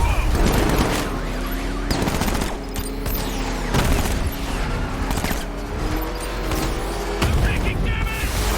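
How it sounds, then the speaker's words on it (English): Enemy gunfire in Batman: Arkham Knight: loud, sustained bursts of automatic fire over a droning vehicle engine, with shots clustering every second or so throughout, while voices call out over the action. "Taking enemy fire!"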